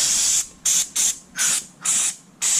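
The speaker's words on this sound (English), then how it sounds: "I'm going to give this a spray" Six short, sharp hissing bursts of aerosol cleaner and lubricant are sprayed onto the driver's electric window motor parts of a 2006 Subaru Forester, each burst close and loud with brief quiet gaps between.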